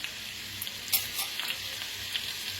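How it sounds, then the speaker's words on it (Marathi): Green chillies and a pinch of asafoetida sizzle in hot oil, a steady close frying hiss broken by small crackles and pops. "त्याच्यात टाकूया आपण हिरव्या मिरच्या, हिंग, थोडंसं हिंग"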